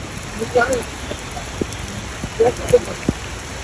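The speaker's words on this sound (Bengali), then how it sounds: "প্রচুর বৃষ্টি হচ্ছে" Heavy morning rain pours steadily beside a large pond in Feni, a dense, constant hiss with a few faint voice fragments rising briefly above it.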